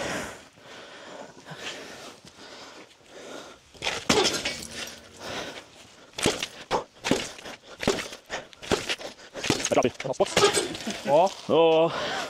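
Armored glass being struck repeatedly and breaking during a durability test, with irregular sharp blows and cracking bursts that grow denser toward the end, heard among people talking nearby.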